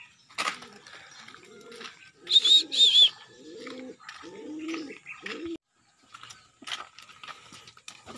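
Pigeons coo in a short run of low, rolling calls, close by, with a few higher chirps and light rustling between them.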